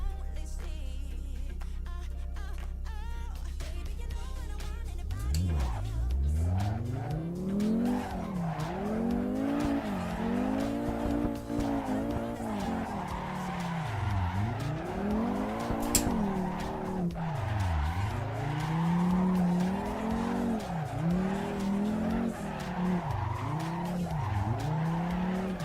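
Car drifting in the Assetto Corsa Evo racing game, with a revving engine that rises and falls in waves under long continuous tyre squeal, loud and steady throughout with no talk.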